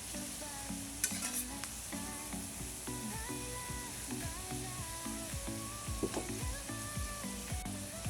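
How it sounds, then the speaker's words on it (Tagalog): Onions sauté in a pan and get stirred during cooking of chicken mung bean stew, a soft sizzle running under rhythmic repeated scraping and clinking of a utensil against the pan, close and fairly quiet. "Haluin na natin ito mga bikers para lumambot yung sibuyas."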